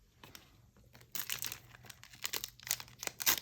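A Panini FIFA Club World Cup 2025 Adrenalyn XL card pack wrapper is torn open close up, with sharp crinkling and tearing rustles of foil plastic in irregular bursts that grow louder as it comes apart.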